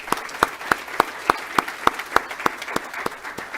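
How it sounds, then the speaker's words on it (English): Audience applause at the opening of a youth food-system event, a modest group clapping in a fairly even rhythm of distinct sharp claps, thin rather than thunderous, without talk over it. "let's give him a round of applause."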